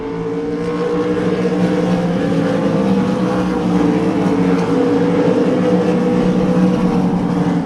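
Race cars roar around the Devils Bowl Speedway track, a loud sustained drone of engines driven hard, steady and close throughout with no pauses.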